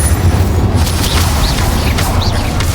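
The Incendio fire spell cast in Hogwarts Legacy bursts with a loud, dense whooshing boom of game effects, with flame roars and chirping magical flourishes layered on top and no talking.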